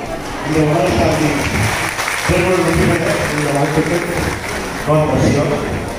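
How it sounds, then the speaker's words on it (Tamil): Applause from an audience in a hall greets Chef Damu as he enters, clapping running beneath a voice talking over it throughout. "எல்லாரும் வந்து ரொம்ப கரகோஷம் எழுப்பி வரவேற்பு கொடுக்குறாங்க"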